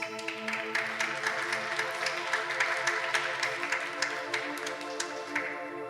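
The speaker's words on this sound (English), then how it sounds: "Round of applause, please." Applause from an audience at the Inércia 2024 demoscene graphics showcase, scattered clapping over a sustained tonal music bed, moderately quiet and continuous for several seconds.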